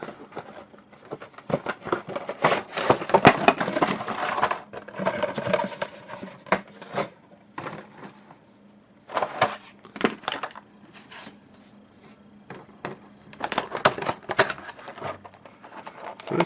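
Action figure packaging for a Mattel WWE Elite figure being opened by hand, with bursts of crinkling plastic and cardboard rustling separated by short pauses, close and moderately loud.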